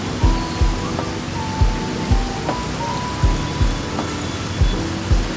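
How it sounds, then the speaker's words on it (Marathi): Steady rain pours down outside while someone waits indoors, a constant loud hiss of falling water with regular low dripping thuds and faint background tones. "आता पाऊस कमी व्हायची वाट बघतोय"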